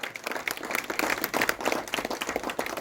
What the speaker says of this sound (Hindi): जोरदार ताली से स्वागत कीजिएगा उसका।